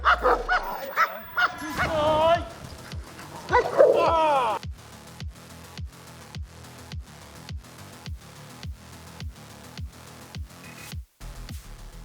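Police service dogs bark in a fast, steady volley of sharp barks, loud and close, joined by whimpers and yips early on, with no one talking.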